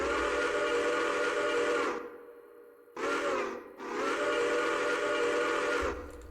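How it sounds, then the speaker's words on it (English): A steam locomotive whistle from a train simulator game's whistle pack sounds loud and chime-like, with a long blast, a brief gap, a short toot, another pause and a second long sustained blast. "And then my favorite whistle that's in this pack,"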